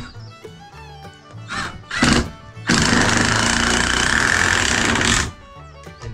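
A power drill whirs in short bursts, then runs steadily for a few seconds boring pocket holes into a wooden board before winding down, with a clunk in between.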